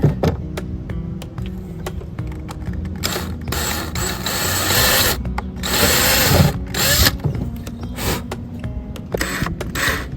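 A power drill bores a pilot hole into a vintage wooden dresser, whirring in short on-off bursts with a couple of longer, louder runs in the middle, close up and without speech.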